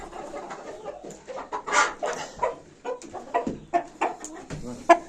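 Chickens cluck and squawk in short, irregular bursts close by, with a few louder calls standing out among the flock.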